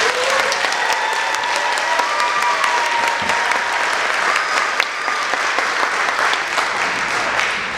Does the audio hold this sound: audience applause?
yes